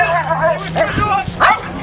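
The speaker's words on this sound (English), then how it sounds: "Hey, get that dog out of here!" A police K9 dog barks and yips in short, loud bursts during a crowd-control demonstration, mixed with shouting voices close by.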